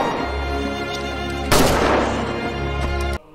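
A single sharp gunshot cracks out midway through a tense concentration-camp film scene as a female guard shoots a nurse, a loud close blast that decays over a sustained low musical drone.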